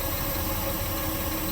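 A truck tractor's engine idles during a pre-trip brake check, a loud, steady, close rumble with even vibration throughout and no talking.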